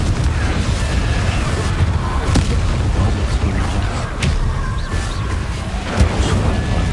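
Explosive Confringo spell blasts from the video game Hogwarts Legacy, loud booming bursts over a dense, continuous rumble of game effects, with sharper cracks around the middle and near the end.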